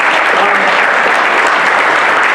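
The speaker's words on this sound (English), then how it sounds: "Let's have another round of applause for Phil Ferguson" Sustained audience applause at a Logicon 2016 conference talk, a dense steady clatter of many hands clapping close by for the full length without letting up.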